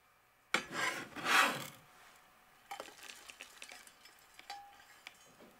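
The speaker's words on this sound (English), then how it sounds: "If you soften the palm sugar in the microwave for approximately 30 seconds, it is much easier to chop." A knife works through microwave-softened palm sugar for Malaysian chicken satay: a loud rasping scrape opens, followed by quieter, scattered scratchy cuts and taps on a board.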